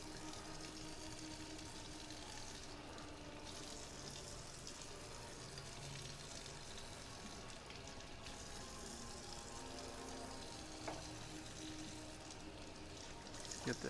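Steady running water rinses excess brine off blackfin tuna before smoking, a continuous wash of splashing flow at close range with no clear pauses.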